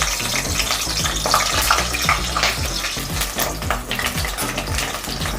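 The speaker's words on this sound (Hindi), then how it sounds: "तेल गर्म हो गया, हम इसको ये बैगन को अच्छी से तल लेंगे।" Brinjal (eggplant) pieces fry in hot oil with a steady, close, dense sizzle and crackle, stirred around the pan throughout with no talking.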